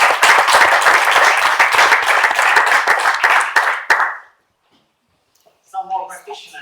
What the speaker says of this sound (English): Give a round of applause for Giri.